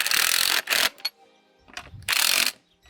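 Spring compressor being cranked on a Mini Cooper R56 coilover spring: two loud, broad ratcheting mechanical bursts with a short clicking gap between them, close up and with no talk.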